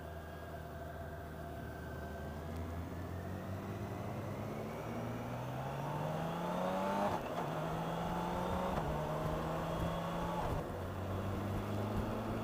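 A BMW K1600B six-cylinder touring motorcycle hums steadily while riding, its engine tone climbing through gears with smooth clutchless shifts, heard under rushing wind noise at moderate level.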